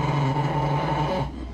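A dog whimpers in a steady, high, tonal whine that holds for about a second and a half before fading, close by, with no talking over it.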